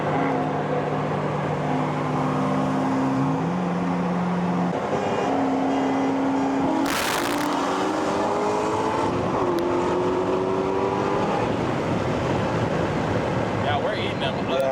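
A Corvette ZR1 races a Tesla, its engine a steady loud roar that shifts pitch through several gear changes over about fifteen seconds, with a brief burst of wind noise and people talking over it.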